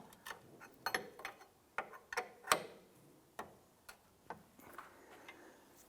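A wrench tightens the nut on a control arm of a 2005–2007 Ford 500, giving a series of sharp, close metallic ticks and clicks, irregular at first and then slower and evenly spaced.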